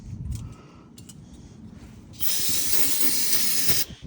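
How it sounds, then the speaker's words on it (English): Brake cleaner spray hisses loudly in a sustained burst of about two seconds during rear brake pad replacement on a Silverado, preceded by light clinks and short hisses, with no talking. "Do we really need this much brake cleaner for just a set?"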